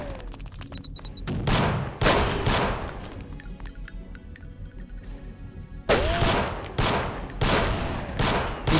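Loud, close bursts of rapid gunfire from the Deus Ex video game (GMDX mod), several volleys of shots with a quieter gap in the middle before the firing resumes.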